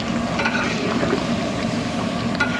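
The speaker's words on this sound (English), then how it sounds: "And then you see now the water is boiling" Water bubbles at a rolling boil in a pot for cooking meat dumplings, a close, continuous churning crackle that stays steady for a couple of seconds with no talk.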